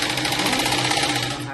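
A close, loud sewing machine whirs in one continuous rapid run while stitching a blouse, easing slightly toward the end.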